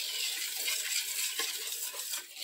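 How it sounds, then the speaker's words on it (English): Damp chicken pieces tossed through a dry coating in a big bowl, a steady, close rustling and squishing with a few soft clinks, no voices. "We're just gonna give that a good mix."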